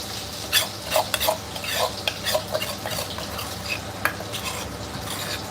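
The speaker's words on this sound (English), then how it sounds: "oil and then our chili paste, our red curry paste, just, just making it" Red curry chili paste fries in hot oil in a Thai kitchen while a utensil stirs it, giving repeated scraping strokes against the pan over a steady, soft sizzle.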